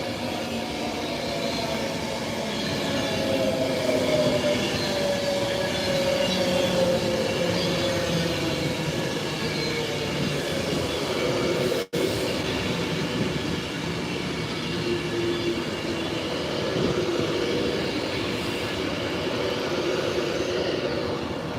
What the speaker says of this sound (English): Right, I can hear the Liverpool train.